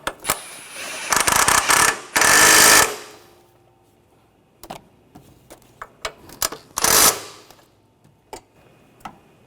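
Bolts being tightened during a timing belt and water pump job on a Honda Pilot V6, with bursts of ratcheting and tool whirring, a few short sharp clicks and taps between them, close by.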